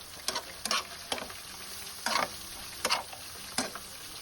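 Mayonnaise, soy sauce and brown sugar being mixed into a sauce for sisig, giving soft, wet scraping and clicking strokes of a utensil against a bowl, repeated in an irregular rhythm at close range with no talking.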